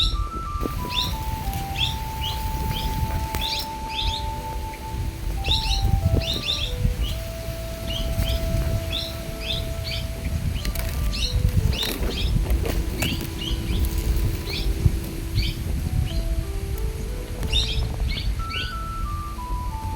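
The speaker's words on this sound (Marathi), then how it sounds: "तुम्हाला पक्ष्यांचा, ह्या पाखरांचा किलबिलाट सुद्धा ऐकायला येत असेल" Small birds chirp in quick repeated bursts near a periwinkle plant, over a constant low background hum and several steady tones.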